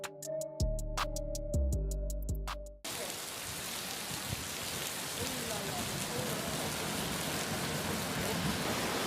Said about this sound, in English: Rain in UAE on Saturday, November 18,